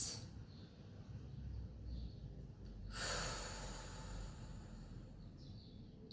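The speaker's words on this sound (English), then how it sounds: "take a couple of deep breaths in and out" Deep breaths taken in and out during a crown chakra yoga session, a long airy exhale rushing at mid-clip over a soft steady room hiss, close and quiet, no talking.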